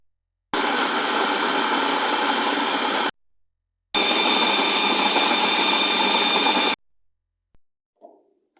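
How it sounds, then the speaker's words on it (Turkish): A food processor chops chopped onions and two garlic cloves for a tomato-pepper ezme sauce. It runs loud and steady in two long pulses of about three seconds each, with a short pause between them and small clinks after it stops. "Şimdi bunları robotumuza alalım. Güzelce bir karıştıralım arkadaşlar."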